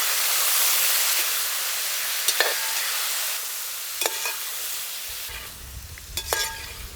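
Small shallots and chopped tomato sauté in a pan for a fish curry, with a constant hissing sizzle broken by a few clinking spoon strokes against the pan.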